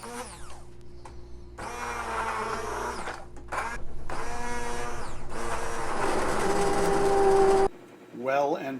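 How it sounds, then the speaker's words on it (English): An immersion blender whirs through a butter chicken sauce in the kitchen, with several loud, close motor bursts of rising and shifting pitch separated by short pauses. "So we're going to immersion blend this down"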